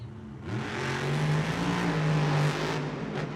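A Bakugan Dragonoid monster truck at an indoor Monster Jam arena revs and swells as it powers through corners, its engine note rising and falling over a continuous roar, with no talking.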